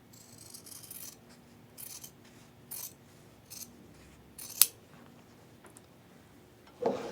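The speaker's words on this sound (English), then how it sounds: "now we're going to just trim approximately 1/4 inch from the edge of your seam on the outside." Scissors trim fabric along the outside seam edge of a quilt block, a few quiet, scattered snips with soft rustling, close up and with no talking.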